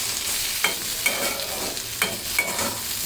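Okra frying in a pan for a potato and prawn curry, a steady close sizzle broken by about four scraping stirs at regular intervals, with no talking.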